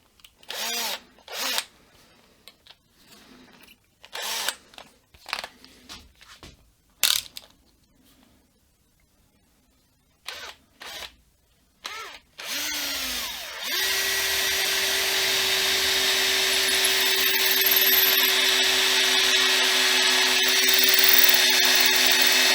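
Clicks and handling clatter, then a power drill whirs loudly and steadily for about nine seconds without stopping, drilling into a guitar body during wiring.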